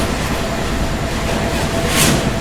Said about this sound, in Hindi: तो गाइस ये सामने अभी train number 20489 Barmer Mathura superfast